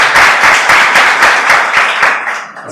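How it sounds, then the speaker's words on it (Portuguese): Loud, close applause from a crowd, rapid dense clapping that carries on steadily and then begins to fade out. "As palmas dessa vez foram bem mais."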